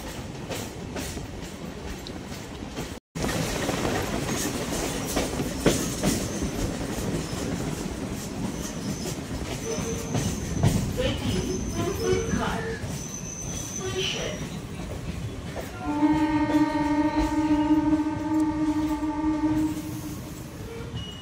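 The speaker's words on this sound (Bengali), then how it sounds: "ট্রেনটি প্রিন্সেপঘাট স্টেশনে চলে এসেছে" A Sealdah–BBD Bag local train rolls into Prinsep Ghat station with a steady rumble and clatter of wheels, then rising squeals and a tonal horn-like whine near the end as it slows, heard from onboard.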